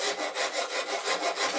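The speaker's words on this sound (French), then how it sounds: "Avec une bonne lime, une bonne râpe à bois, on peut terminer" A wood rasp files the stern of a small wooden toy boat in a steady back-and-forth rhythm of about eight strokes, close and loud, with no talk.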